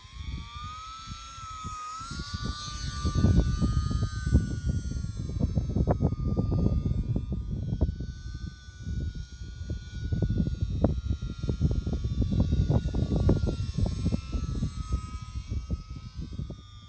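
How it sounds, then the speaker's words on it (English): E-flite UMX Pitts S-1S micro RC model airplane flies with a steady high electric motor whine that rises and falls in pitch as it passes, over outdoor wind noise for the whole stretch. "test fly the UMX Pitts S-1S ready to fly micro RC model airplane"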